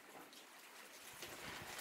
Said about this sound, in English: It's overcast and raining,